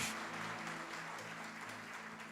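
A church congregation claps in applause, a steady, fairly faint wash of many hands with a low hum underneath and no speech over it.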